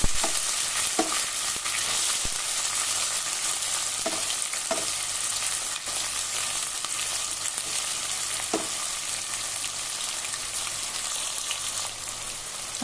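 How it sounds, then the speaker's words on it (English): Onions fry in hot oil with steady crackling sizzle, broken by occasional clicks and scrapes of a stirring spoon against the pan, close and continuous throughout. "And we will stir these onions till they become nice and golden brown"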